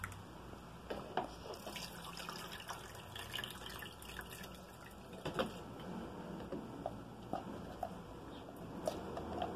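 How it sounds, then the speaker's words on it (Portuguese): Water drains through a kitchen sieve from chilled homemade coconut oil, heard as faint, scattered drips and trickles with soft clicks, quiet throughout. "Agora, com o auxílio de uma peneira, eu vou retirar a água."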